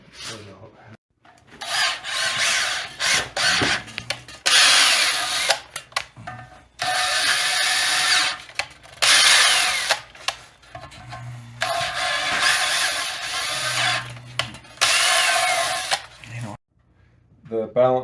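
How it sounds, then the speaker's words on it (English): A power tool whirs in repeated bursts while bolt holes on a John Deere 400 industrial tractor are cleaned out, with mechanical rattling in the pauses and someone speaking intermittently. "Cleaning the holes out real good so that the bolts will tap into them good"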